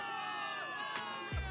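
A crowd of game soldiers cheers for victory, a dense, continuous wash of many voices shouting together, with a low thump near the end.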